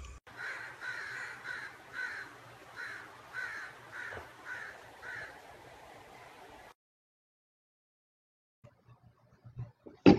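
A crow caws repeatedly outdoors, a rhythmic run of about ten harsh calls at a moderate distance over low background noise, then a near-silent pause before a few soft knocks and a loud close thump.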